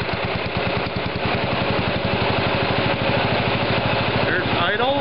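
A small carbureted engine with its air cleaner fitted idles steadily and close by, a loud, even, rapid throb that holds for the whole stretch, with a brief wavering tone near the end.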